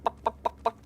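A person imitates a turkey with their voice in the game Garry's Mod: four short, evenly spaced clucking gobbles, close to the mic and fairly soft.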